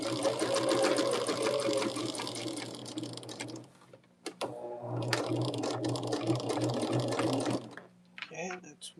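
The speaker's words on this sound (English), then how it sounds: "and sewing everything together." Sewing machine stitching quilt block pieces together, running in long continuous bursts with short pauses between seams, close and fairly loud.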